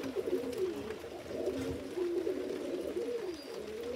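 Soft, continuous cooing from pigeons in a loft, overlapping low warbling calls that rise and fall without pause, fairly quiet and close.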